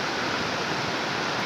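Heavy monsoon rain and rushing water in Sendriamba village, Ahwa, Dang district, form a loud, steady roar with no break and no voices.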